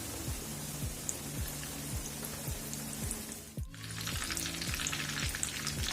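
Dense, steady sizzling of chicken cutlets frying in a pan, close up, with brief stirring and a short pause before the crackle resumes.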